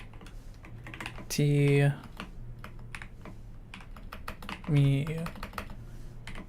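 Computer keyboard typing in a horror game, with soft keystrokes running under steady low background noise, interrupted twice by short loud voiced bursts.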